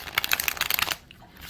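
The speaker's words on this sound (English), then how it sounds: "Oh, I love shuffling this deck." A large, chunky, thick deck of cards is shuffled close up in a quick run of riffling flutters for about a second, then goes quiet.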